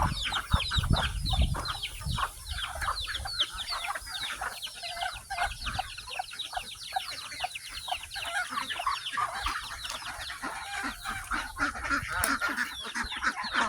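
Ducks quacking loudly during afternoon feeding, a dense, continuous chorus of overlapping quacks and honks from a close flock.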